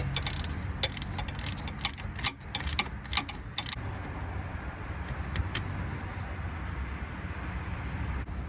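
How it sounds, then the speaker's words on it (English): A wrench works a 15mm tensioner bolt on a 1989 Corvette C4, starting with a run of sharp metallic clicks and ratcheting snaps, then a quieter stretch of faint handling noise under a low background rumble. "let's try and get that 15mm bolt off and get the old tensioner out"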